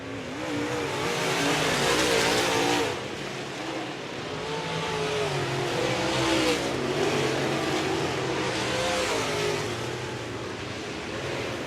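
Race cars in a heat at a Berlin track roar past at close range, engines surging and revving in overlapping waves with a dense, continuous mechanical drone and no clear voices.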